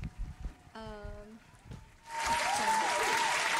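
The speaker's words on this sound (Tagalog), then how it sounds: "Palakpak naman dyan." Applause at an informal gathering with a vlogger in the Philippines, a sustained burst of clapping that starts partway through after brief talk and a sung note, then continues loudly to the end.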